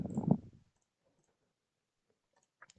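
A computer mouse clicks a couple of times, short faint dry ticks near the end after a brief low thump, otherwise near silence.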